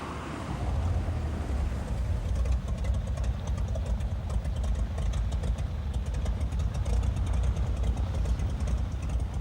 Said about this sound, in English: A floatplane like the Cessna 185 is inherently noisy